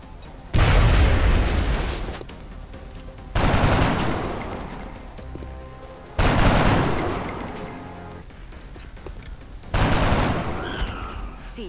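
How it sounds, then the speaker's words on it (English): Grenade blasts in XCOM: Enemy Unknown, four loud booming explosions spaced a few seconds apart, each with a sharp onset and a long rumbling decay. There is no speech. "Throwing grenade."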